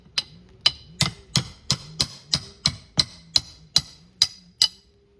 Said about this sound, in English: I'm gonna just dig in here and then just pull it off with a hammer and claw bar